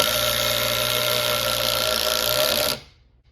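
A cordless driver at speed 2 whirs steadily as it drives a screw with a DeWalt Flex Torque Phillips bit, its motor loud and close before stopping abruptly.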